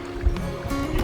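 Jet ski running across open water, a steady engine drone with hull slap and splashing, close and continuous for about a second with no talk.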